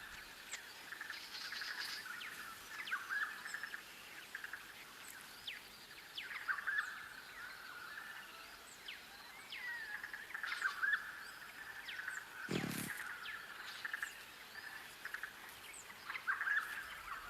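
A mistletoe bird calls while feeding on mistletoe fruit, giving repeated short, thin, high chirps every few seconds, faint against a quiet background of insect hum and one brief thump.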